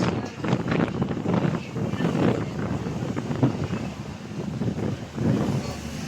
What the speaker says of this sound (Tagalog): Mahangin mga idol. Yan. Lakas ng agos ng alon.